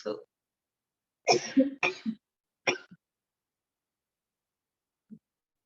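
Several short, sharp coughs or throat-clearing bursts in a cluster, then a lone faint one after a pause, with quiet between.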